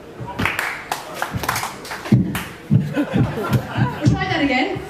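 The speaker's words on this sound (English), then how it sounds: "When I step, everybody clap." An audience on a ferry claps in loose, uneven bursts while chuckles and scattered laughter rise between the claps.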